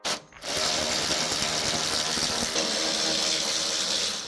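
Tools remove bolts from the rear braces of a Lamborghini Gallardo during a clutch job in a workshop, a sustained close mechanical whir after a short opening knock, with no talk.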